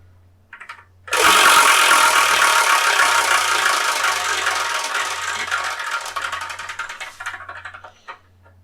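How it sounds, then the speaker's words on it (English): A prize wheel spins in a dense, loud whirring rattle of rapid ticks that starts abruptly, stays steady for several seconds, then gradually slows and fades, with a low periodic hum underneath. "we're going to spin this Wheel of Manga"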